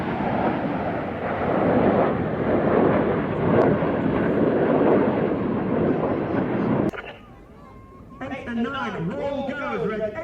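RAF Red Arrows jets flying a display formation, a loud rushing roar that holds for several seconds and then cuts off abruptly, followed by an announcer talking.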